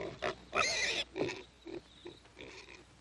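A pig called Blossom grunts and squeals in a series of short, close bursts, one loud squeal standing out near the start before quieter snorts follow, with no talking.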